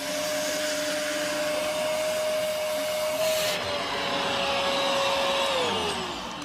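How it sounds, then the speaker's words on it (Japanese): A vacuum cleaner draws the air out of a bag of rice in a sumo stable kitchen, a loud, steady whine with a sustained tone that drops in pitch near the end as the bag tightens. "掃除機で空気を抜いていきます。"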